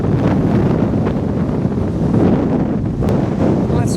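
Strong wind blows across Benidorm beach, buffeting the microphone in a loud, continuous roar with no voices heard.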